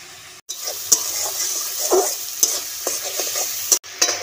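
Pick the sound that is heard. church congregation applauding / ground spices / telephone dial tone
ground spices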